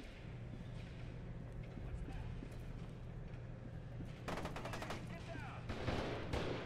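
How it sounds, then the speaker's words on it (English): Soldiers firing in the game F.E.A.R. 2: Project Origin, rapid automatic bursts rattling at mid-distance over a constant ambient rumble, growing denser toward the end. "Where are they shooting at?"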